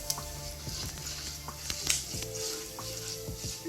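Mustard seeds, urad dal, curry leaves and dried red chillies sputter in hot oil for a proso millet upma, a soft, faint crackle with scattered small pops and light clicks, heard alone without talk.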